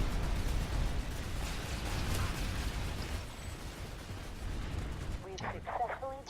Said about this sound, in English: This is some air shooting at me.